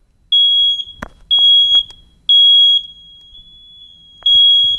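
A smoke alarm sounds four loud, piercing beeps, each lasting around half a second to a second, separated by short pauses with a few soft thumps in between.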